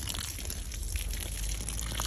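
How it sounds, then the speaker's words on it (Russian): Water is poured into a planting hole while blueberry bushes are being set in the garden, giving a soft continuous gushing and splashing that stays quiet throughout. "И заливаю водой"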